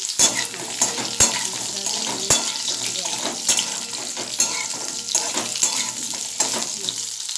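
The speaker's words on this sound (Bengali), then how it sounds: "আলু আর পটল একটু হালকা করে ভেজে" Potatoes and pointed gourd frying lightly in a pan, a loud close sizzle running throughout with sharp spoon clicks against the pan at irregular intervals.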